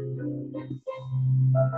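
A slow, quiet Beethoven piece played smoothly and legato, with sustained tones gliding into one another and a brief gap partway through.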